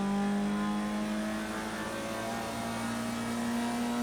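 Formula rookie race car in the video game Project Cars 2 with its engine held high in the revs, a steady, buzzing mid-pitched drone that shifts tone slightly partway through, heard alone without talking.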